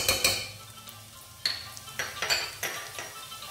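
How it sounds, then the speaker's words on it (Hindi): Ginger and garlic paste sautés in a karahi pan, a faint sizzle beneath a series of sharp metallic scrapes and clinks from a spoon stirring every half second or so. "इन सब की भुनाई कर लेंगे, लेकिन ब्राउन नहीं होने देंगे ज़्यादा, और सौटे करेंगे।"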